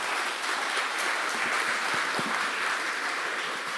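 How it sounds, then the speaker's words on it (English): Candidates at a county candidates forum get a steady, full round of applause from the audience, with dense clapping at a consistent loud level throughout and no talking over it. "let's give everybody a big round of applause for coming out and"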